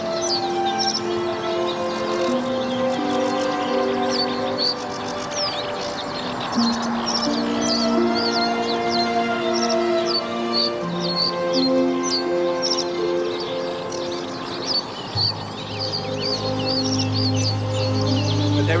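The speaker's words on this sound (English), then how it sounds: "There is often a real burst of song just as it gets warm." Many birds sing together outdoors in warm weather, a dense, continuous chorus of bright chirps, trills and warbles layered over a low steady background hum.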